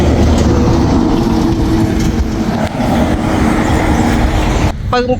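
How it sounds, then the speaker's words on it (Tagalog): A truck passing on a street, a loud, continuous, close rumble and road roar filling the whole clip, with a brief rattling change near the end. "Sorry po, maingay. May truck kasi."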